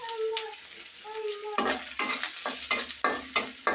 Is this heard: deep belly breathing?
no